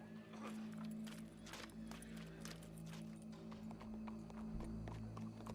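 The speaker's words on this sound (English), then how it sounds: "Go brush that horse, officer." Horse hooves clip-clopping at a steady walking pace, fairly faint beneath a constant low hum, with no talking heard.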